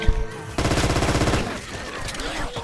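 Gunfire aimed at zombies in Left 4 Dead 2, a fast burst of close automatic shots after an opening blast, then scattered game noise and chatter as the firing stops.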